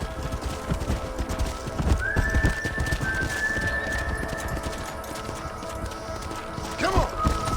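Horses gallop in the Red Dead Redemption video game, with steady clip-clop of hooves, neighing and a whistle over rumbling ambience while a voice speaks.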